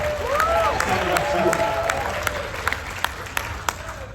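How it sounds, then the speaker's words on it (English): Scattered claps and a murmuring crowd at a Paul Stanley fan event on the KISS Kruise, with a few sharp isolated hand claps standing out toward the end. "You can clap."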